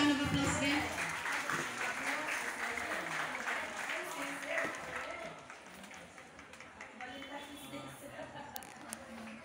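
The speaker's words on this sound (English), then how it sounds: "Let's give him a round of applause again." Applause from a crowd at a school event, strong at first and then thinning out and fading, with a voice carrying over the clapping.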